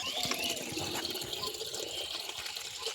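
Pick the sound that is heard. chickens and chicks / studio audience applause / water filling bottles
water filling bottles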